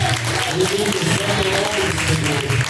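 Worshippers at a live Pentecostal church service clap in praise, a loud, sustained wash of hands mixed with voices and tonal sound underneath.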